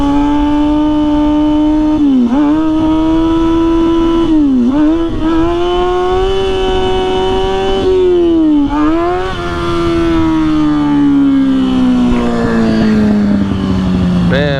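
A motorcycle engine, cold and struggling to warm up, runs loud and close, holding a buzzing idle with repeated short dips and rises in revs before its pitch slowly sags toward the end.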